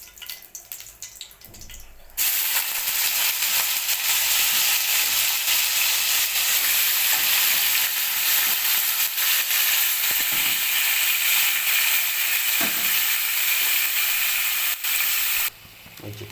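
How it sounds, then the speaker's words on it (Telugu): Chicken dropped into well-heated oil in a pan for a bachelor-style chicken curry erupts into a loud, continuous sizzle that holds steady for many seconds before cutting off, with quieter kitchen sounds before and after. "ఈ నూనె బాగా వేడెక్కాక మనం ముందుగా క్లీన్ చేసుకున్న చికెన్ని ఇందులో"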